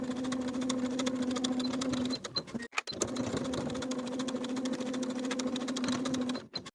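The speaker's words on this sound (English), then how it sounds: "Now we can sew both shoulder seams with a 5/8 inch seam allowance." A home sewing machine stitches a garment's shoulder seams at a 5/8 inch seam allowance, running in two steady bursts with a short pause between them. The motor hum is close and continuous, with no talking.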